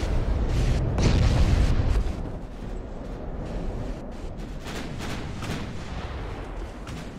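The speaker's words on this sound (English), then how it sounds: "Ammo detonation." A warship's ammunition magazine detonates in a naval battle game off Savo Island, 1942: a loud, heavy boom with a rumbling low roar that peaks in the first two seconds, then settles into a sustained, crackling battle din.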